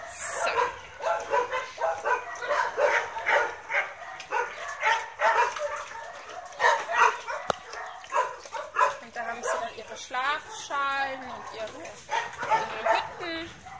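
Dogs in an outdoor enclosure under a shelter give repeated yips, barks and whimpers, fairly close and steady, with someone talking over them in German and higher whines near the end.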